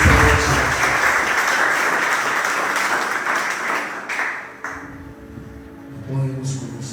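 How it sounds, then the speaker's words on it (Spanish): Congregation applauding loudly at an evening church service led by a pastor, a dense, sustained roar of many clapping hands that thins and tapers off toward the end. "Dale un fuerte aplauso al Espíritu Santo esta noche."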